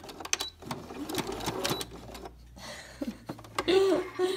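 Sewing machine stitching a short backstitch on fabric for a placemat and napkin holder, with rapid rattling needle bursts starting and stopping, close and fairly quiet.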